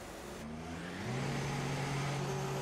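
F1 car in the F1 Racing 2016 video game pulling out onto the track, its engine note rising in pitch as it accelerates, steady and close.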